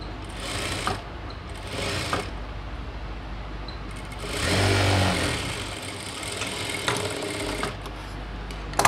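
A sewing machine stitches a chudidhar top in several short bursts of rapid whirring, separated by brief pauses, with one longer run in the middle.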